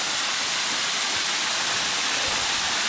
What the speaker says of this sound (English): here we are at the bottom of the falls